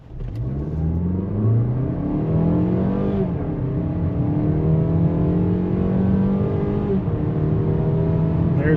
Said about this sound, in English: I'm just going to punch it to the floor and see how long it takes to get to 60.